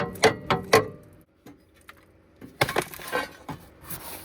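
A loosened control arm and bushing on a T1N Sprinter steering rack give off several sharp knocks and clunks. Quieter scraping follows, then a cluster of rattling metallic clanks close by.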